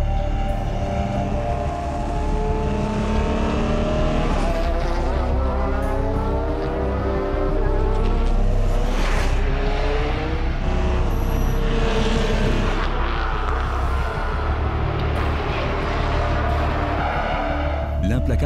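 André Lotterer's Audi race car makes a fast start at the 24-hour race, loud engines revving and sweeping past in rising and falling whines, under continuous talk.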